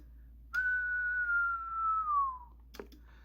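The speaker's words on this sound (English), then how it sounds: "I'm going to give a little whistle into this microphone" A single sustained whistle into a CB radio microphone, a steady pitch held for about two seconds and sliding slightly downward before cutting off, heard alone over a low background hum.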